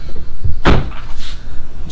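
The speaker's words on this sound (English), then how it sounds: "Now I'm going to close the door" A BMW M2 car door shuts once with a single solid thud, close by, amid quiet background.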